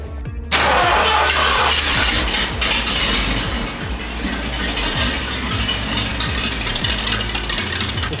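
Big Block Ford 460 V8 with Holley Sniper 2 EFI cranking and catching, then idling loud and close with a lumpy, rattling rhythm.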